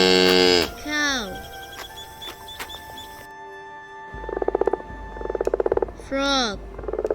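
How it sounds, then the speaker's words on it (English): Frog croaking among a series of cute animal calls: short bursts of pulsed, rattling croaks come through clearly, mixed with high, sweeping chirpy calls and a steady low hum underneath. "Frog."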